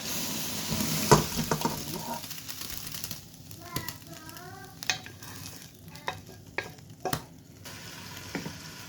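Braised pork and onions poured into a saucepan, sizzling and frying with stirring clatter and scraping, a steady crackle broken by sharper utensil knocks, with faint voices in the background.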